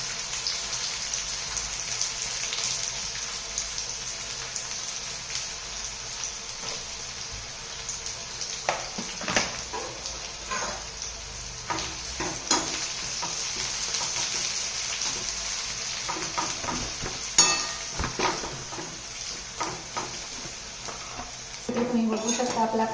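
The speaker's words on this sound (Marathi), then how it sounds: "कांदा सोनेरी रंगावर या ठिकाणी फ्राय करून घ्यायचा आहे" Chopped onion frying in hot oil in a pan until golden, a steady sizzle with intermittent stirring scrapes and clatter throughout.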